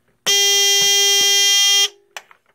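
An International 4001 fire alarm panel with no battery sounds its trouble signal, a loud, close, steady electronic buzz lasting about a second and a half before cutting off, followed by a couple of faint clicks.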